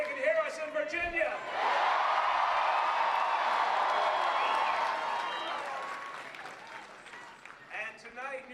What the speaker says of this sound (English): Let's cheer so they can hear us in Virginia.